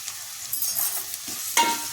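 Chopped onion pieces frying in a pan for a mushroom curry, a soft steady sizzle that swells with a brief burst near the end, no voices.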